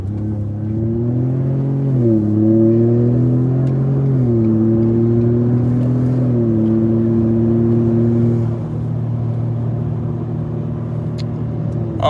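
A twin-turbo Ford F150 pickup accelerating hard on a highway up to about 80 mph, a close, steady engine roar climbing in pitch through several gear changes before easing back to a level cruise.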